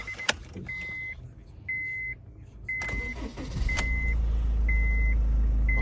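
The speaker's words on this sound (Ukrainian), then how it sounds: "Зараз заведемо автомобіль." A 2012 Honda CR-V starts up with repeated short electronic warning chimes, then a cranking burst and the engine catching into a steady, close idle rumble that carries on to the end.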